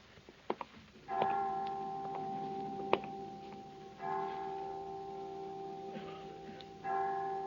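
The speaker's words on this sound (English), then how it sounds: "I didn't know the children's home had chimes." Resonant chimes strike five o'clock at a children's home in an old radio comedy, with slow separate strikes that ring and decay. Faint ticking and small knocks are heard between them.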